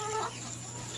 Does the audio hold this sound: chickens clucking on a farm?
yes